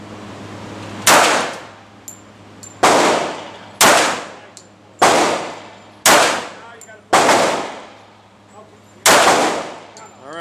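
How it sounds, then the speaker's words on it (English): A .45 pistol fires at a shooting range, seven loud, sharp, close shots spaced about a second or two apart, each leaving a short decaying echo. "Not much recoil for a 45."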